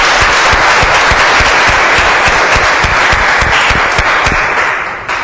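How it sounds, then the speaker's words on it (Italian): Audience at a poetry recital dedicated to fathers bursts into loud, dense applause, many hands clapping steadily with some distinct individual claps, easing slightly before cutting off. "Con un applauso."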